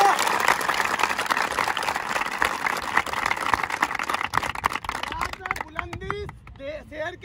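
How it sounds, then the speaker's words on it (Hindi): Audience applause at an Indian Army recruitment event, a dense burst of many clapping hands filling the first five seconds before thinning out as a voice takes over. "जोरदार तालियां एक बार इसमें"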